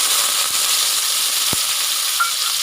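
Finely chopped onion frying in hot oil with cumin, bay leaf and dried red chillies for a veg dum biryani, heard as a steady close hiss with a couple of soft utensil knocks.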